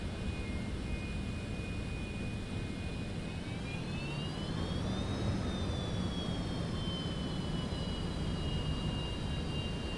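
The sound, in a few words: jet aircraft taking off in Microsoft Flight Simulator 2024, video game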